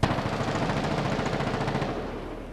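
Sustained rapid automatic gunfire in a zombie survival video game, a dense continuous burst of shots running loud and steady for the whole stretch with no talk over it.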